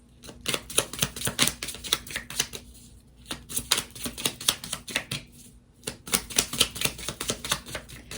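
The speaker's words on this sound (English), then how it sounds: "When you shuffle this way, you have to be really patient" Tarot cards are shuffled by hand in quick, crisp bursts of riffling and flicking, with brief pauses between rounds, close and fairly quiet.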